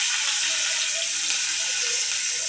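Curry leaves hit hot oil already holding asafoetida and ginger-garlic pieces, giving a steady, loud, dense sizzling hiss that runs without a break and without any talking.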